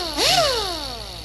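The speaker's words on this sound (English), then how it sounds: "this is obviously an air pneumatic tool that it spins" A pneumatic air die grinder used for sharpening hedger blades spins up with a quick rising whine that peaks and then slowly winds down, loud and close, heard alone.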